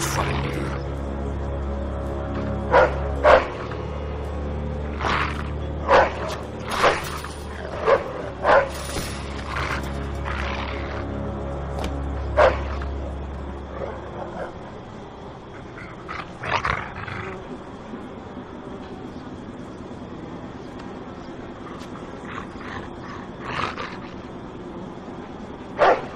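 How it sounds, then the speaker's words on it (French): A dog barks and growls in the video game Mafia II, sharp repeated barks at uneven intervals over a low engine-like drone that cuts out midway, with voices talking. "Lâche ton chien, sale enfoiré."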